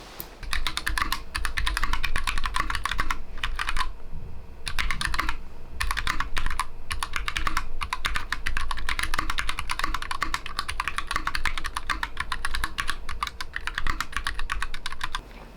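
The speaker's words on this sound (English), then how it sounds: "I'm going to do a typing test in 3, 2, 1." Fast, continuous clacking of a mechanical keyboard, dense keystrokes close to the listener with only brief pauses, no talking.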